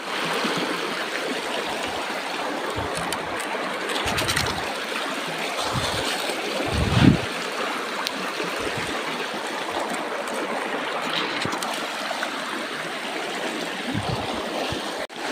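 Water flows and bubbles steadily through a gold sluice set in a creek, with a rock placed in front of it, making a continuous close rushing and gurgling wash with a few brief splashy surges.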